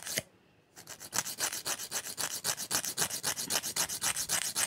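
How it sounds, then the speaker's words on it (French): A nail file rasps against a fiber rubber gel nail in quick, even back-and-forth strokes, close and continuous with a steady rhythm after a brief pause at the start. "Maintenant, on passe au limage."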